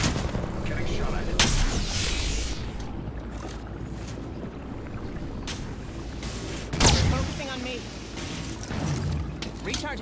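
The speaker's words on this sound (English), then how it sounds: "Getting shot at." Gunfire in the video game Apex Legends, with sharp bursts recurring through continuous game ambience and voice lines over it.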